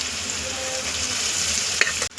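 Cooked white rice being stir-fried with vegetables in oil on a tawa for street-style pulao: a steady, close frying sizzle with scraping stirs, a sharp knock near the end, no voices.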